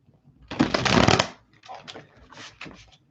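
A quick riffle of tarot cards being shuffled, one long crisp burst followed by two shorter shuffles, close up with no talking.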